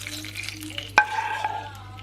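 Spoonfuls of oil fried with red pepper flakes are poured over manti, with a sharp metallic spoon clink and a soft, brief sizzle in a quiet kitchen.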